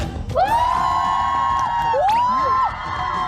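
A magic-show audience lets out a loud, sustained shout and cheer that swells and holds for a few seconds, with overlapping voices and whoops filling the hall.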